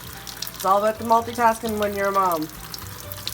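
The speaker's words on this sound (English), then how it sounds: "So you can hear the water running in the background." A kitchen tap runs steadily while dishes are washed at home, a soft continuous hiss sitting under a woman's speech throughout.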